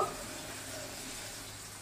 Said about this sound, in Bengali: তো ডিমটাকে একটু উল্টে পাল্টে আমি ভালো করে একটু ভেজে নেব।